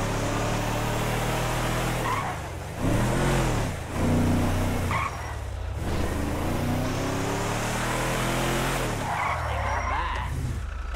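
A car in the GTA V video game driving hard, engine revving and dropping in repeated surges with tires squealing and skidding, loud and close, no talk over it.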